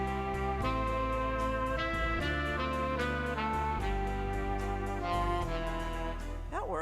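An organ plays the bass accompaniment of a song setup, sustained chords and a steady bass line moving through changes, alone and fairly close, ending with a wavering pitch bend.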